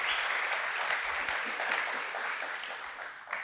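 An audience at a talk event on resilience and creativity claps in a dense, steady wash of applause, sounding fairly close and full, easing slightly toward the end.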